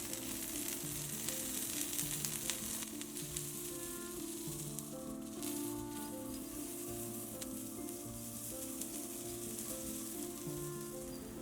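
Paddu cooking in butter on a pan over a low flame, a steady close sizzle with fine crackling that carries on evenly throughout, with faint background music.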